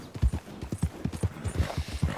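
Horse hooves clip-clop at a steady walking rhythm in Red Dead Redemption 2, about ten close, even footfalls over a couple of seconds with no talk over them.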